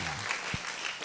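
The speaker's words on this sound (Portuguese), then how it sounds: "Uma salva de palmas os nossos queridos da Capoeira Luanda." Brief applause at a rock festival honoring a capoeira group, with soft, distant clapping over a short moment and a low thump partway through.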